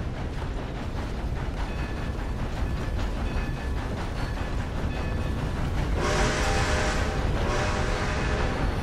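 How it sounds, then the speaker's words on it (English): A train rolls past in the video game Red Dead Redemption 2, a steady loud rumble with clattering and rising hiss near the end, heard alone without any voices. "Where is that train?"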